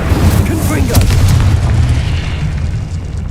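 Confringo explosive spell blasts from the video game Hogwarts Legacy, a loud, dense continuous boom with rumbling low end and crackle, spoken spell shouts mixed in.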